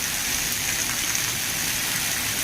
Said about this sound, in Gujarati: લીલિયામાં જોરદાર વરસાદ